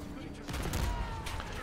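Rapid, continuous automatic fire from a Jackal PDW in a video game, heard faint and dense behind a noisy, steady background.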